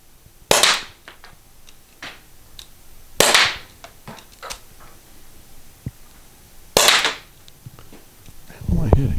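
Several sharp, loud pops from a T4E TR50 pepperball launcher fired outdoors, three main shots spaced a few seconds apart with fainter clicks and handling noises between them.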